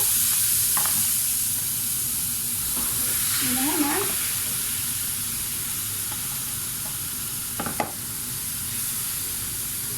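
Steady loud sizzling of meat frying over high heat in a hot pan, with a brief spoken phrase and a couple of light clinks partway through.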